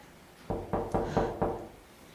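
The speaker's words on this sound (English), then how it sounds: "knock on the door." Five sharp knocks on a wooden door, evenly spaced and close, on a stage during a school musical production, with quiet room tone between and no talking.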